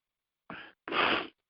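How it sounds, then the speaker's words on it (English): A person sneezes, a short sharp inhale-like burst followed by a louder, longer explosive sneeze, close and alone in an otherwise silent room. "I'm sneezing."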